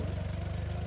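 A farm tractor idles steadily with a fertilizer spreading machine hitched behind it on a field being prepared for watermelon planting, giving a close, even low rumble with regular pulsing and no talk.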